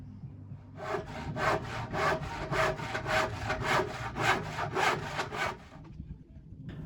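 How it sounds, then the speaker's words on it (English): A jigsaw cuts an arch piece from wood for a garden arch with trellis, giving a steady run of loud, rhythmic rasping strokes that starts abruptly and stops after about five seconds, with no talking. "And then he uses a jigsaw just to cut out this arch piece."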